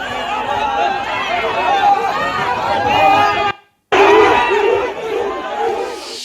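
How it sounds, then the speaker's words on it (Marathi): A crowd of supporters in Gujarat celebrates a local body election win with loud, dense shouting and chanting. It carries on continuously except for a brief cut to silence midway. "गुजरातमध्ये लॉरेन्स बिश्नोईच्या समर्थकांचा जल्लोष"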